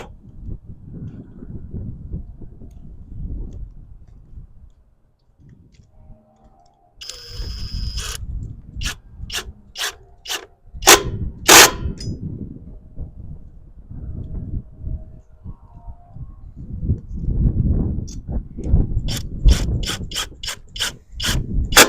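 An air gun runs on the clutch bolts of a 2009 smart car during clutch and flywheel replacement, giving several sharp, loud bursts of rapid rattling clicks between quieter handling and rubbing noises nearby.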